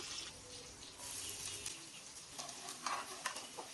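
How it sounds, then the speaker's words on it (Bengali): Chopped onions and green chilies fry in oil in a pan, giving a faint, soft sizzle with light stirring scrapes and a few clinks, with no talking. "পেঁয়াজ আর কাঁচামরিচ ভাজা হয়ে গেছে"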